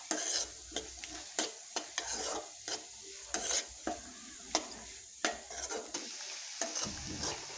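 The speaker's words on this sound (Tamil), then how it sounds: "நீங்கள் வேணால் அதில் வெங்காயம் போட்டு தாளிக்கோங்க" Onions sizzle quietly in a pan while a utensil scrapes and taps against it in irregular stirring strokes.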